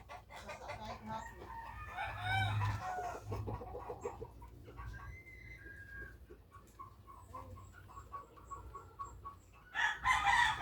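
Chickens cluck in a home garden and a rooster crows, with close, intermittent clucking and a crow near the end, under occasional quiet background noise.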